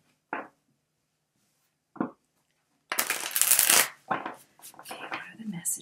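Tarot cards being shuffled, a few short separate riffles first, then a loud, dense burst of flapping card noise followed by more bursts of handling, close and clear with no voice.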